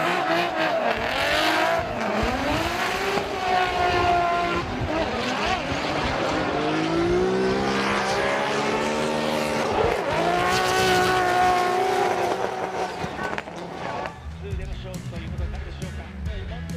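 A super-lightweight, high-power BMW race car in a drift competition at Sportsland Sugo screams along the track, its engine revving and shifting loudly and continuously beneath excited commentary.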